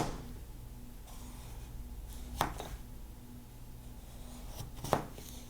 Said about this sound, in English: we'll just cut up the potato